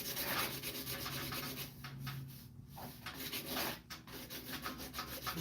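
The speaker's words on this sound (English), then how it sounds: "this is 120 grit sandpaper that I already beat the hell out of, so it lost a lot of its oomph" Worn 120 grit sandpaper rubbed back and forth along the wooden handle of a hand-made axe, quiet close scratchy strokes in an uneven rhythm with short pauses between passes.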